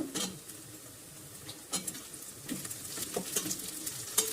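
Sliced onions and green chillies sizzle quietly in a pan, with intermittent stirring scrapes and crackles spaced through the sizzle and no voice.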